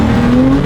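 The 200-horsepower engine of a 3D-printed Porsche GT3 RS revs hard, a loud continuous drone climbing slightly in pitch during a brief burst of acceleration.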